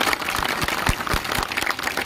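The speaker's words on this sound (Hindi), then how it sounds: "अरे तालियों की गड़गड़ाहट से" A crowd at a political rally in Rajgarh applauds, producing a dense, continuous patter of many hands clapping at moderate distance, steady throughout.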